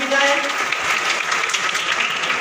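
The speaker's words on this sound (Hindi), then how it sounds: "जोरदार तालियों से इस्तेकबाल की जाएगा" An indoor audience gives loud, continuous applause for SSLC toppers at a felicitation event. Dense clapping fills the whole stretch, and a voice talks beneath it.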